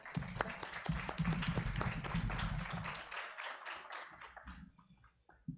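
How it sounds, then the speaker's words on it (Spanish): Welcoming applause for a doctor at an academic session on gender violence, a few seconds of clapping from a modest audience that is fairly close and brisk, then thins and fades away. "Démosle un caluroso aplauso de bienvenida a la doctora"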